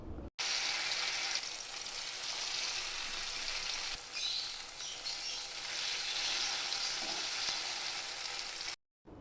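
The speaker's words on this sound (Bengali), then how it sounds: "কড়াইতে তেল দিয়ে পনিরগুলোকে প্রথমে ভেজে নেব।" Paneer pieces fry in hot oil in a wok, giving a constant, fairly close hiss and sizzle that rises and falls slightly before cutting off abruptly near the end, with no speech.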